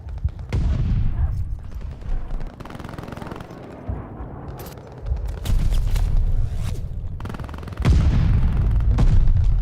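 Bursts of NZ-41 rifle fire in Call of Duty: Vanguard multiplayer, loud close shots in several rapid volleys mixed with explosions and battle noise, with brief in-game announcer callouts.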